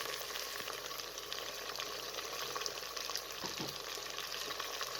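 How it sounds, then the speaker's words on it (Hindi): Steady, close sizzling and crackling of mutton frying with garlic and ginger in a hot pan over medium flame, with an occasional stir or clink, and no talking. "गोश्त को इतना फ्राई करना है कि इसका कलर चेंज हो जाए।"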